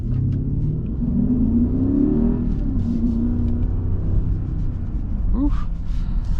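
A 2021 Mercedes GLS 580 third-row SUV pulls away with a low engine rumble that rises slowly in pitch as it gains speed, heard steadily from inside the cabin with some faint voice and cabin noise.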